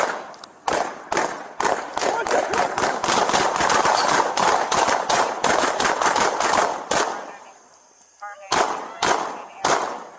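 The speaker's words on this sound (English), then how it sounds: "shots fired" Rapid bursts of gunfire during a police traffic stop in Chicago, dozens of loud close shots in quick irregular volleys, then a brief lull and a few more scattered shots, with shouting voices underneath.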